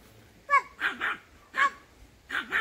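A dog at a country dacha barks close by in four sharp, whining bursts spaced about a second apart, with quiet pauses between them.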